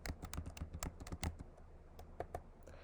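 Fingers tapping a computer keyboard while a first name is entered into an email sign-up form, giving quick irregular clicks in bursts, close and clear, then a short pause and a few more keystrokes.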